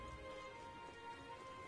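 Steady rain falling in the video game Metaphor ReFantazio, a soft continuous patter that stays even and fairly quiet throughout with no voices.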